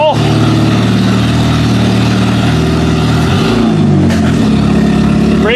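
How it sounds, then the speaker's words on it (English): A Pontiac G6 demolition derby car with newly swapped spindles is driven while its engine runs with timing chain noise. A loud, close, continuous engine drone holds steady, with a brief shift in pitch near the end. "Hear that timing chain."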